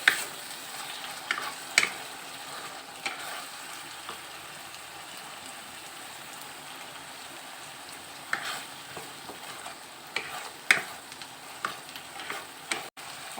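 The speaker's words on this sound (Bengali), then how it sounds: "একটু মশলাটা কষুক, তারপর চিকেনগুলো ছেড়ে দেবো।" Spices with Kashmiri chilli powder being stirred and fried in oil in a pan for a Bengali doi chicken kosha, a steady soft sizzle with occasional scrape and clatter of the spoon, no talking.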